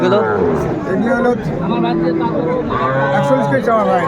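Bull calves at Aftabganj cattle market moo repeatedly, with deep overlapping calls from several animals under steady nearby talk and crowd babble.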